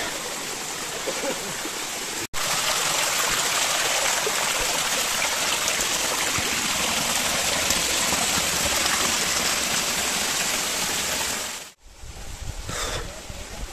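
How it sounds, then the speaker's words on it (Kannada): Continuous loud rushing of a nearby stream on a Kumara Parvatha trek, steady throughout, with a couple of brief handling bumps and dropouts. "ಪಕ್ಕದಲ್ಲೇ ಜರಿ ಹರಿತದೆ."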